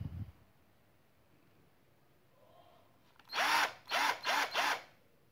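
A CR Ferramentas QFC1012-25N 12-volt cordless screwdriver fires in four short whirring bursts in quick succession, each spinning up and stopping sharply. The bursts are close and loud after a quiet stretch.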